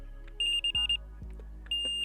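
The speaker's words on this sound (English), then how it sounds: "So if I turn this alarm on" Wolf Icon Q fishing bite alarm sounds a series of sharp, high electronic beeps in quick bursts, close and clear, with soft clicks of the line mechanism between tones.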